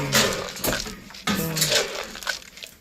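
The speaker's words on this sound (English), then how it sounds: "Take 6 scoops of sweet mix." Sweet mix feed being scooped from a bucket in a farm barn: a few scraping, rattling scoops of dry grain, close and fairly loud, in uneven bursts with short pauses.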